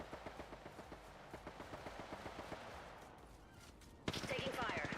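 Rapid bursts of video game gunfire crackle in a steady run for about four seconds, followed by a louder, brighter sustained blast of noise near the end.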